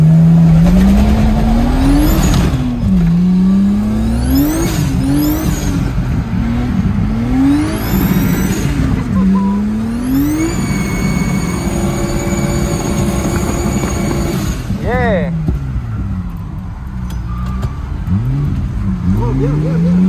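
A BMW E36 325i with a turbo drifts on a track at Bugey. The engine revs and rises and falls in repeated loud, close sweeps, with tires squealing between them.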